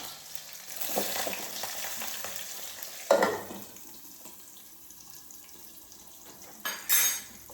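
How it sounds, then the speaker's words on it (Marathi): Crushed unpeeled garlic, curry leaves and onion drop into hot oil and fry with a soft, steady sizzle, broken by a sharp splash and a short stirring scrape, close by and without speech. "आता तेल तापलं आहे, तर मी ही लसूण ना अशी चेचून घेतले सालीसकट, ती टाकते. कढीपत्ता जास्त, कांदा."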